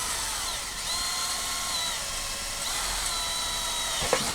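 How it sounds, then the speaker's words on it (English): A drill boring a pilot hole through a layer of steel and into wood, heard as a steady high-pitched whine with slight pitch shifts, fairly faint, ending in a sharp click, with no talking. "So the pilot hole is drilled."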